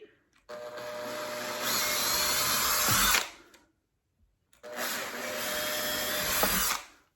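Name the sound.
power drill drilling through cabinet hardware hole at high speed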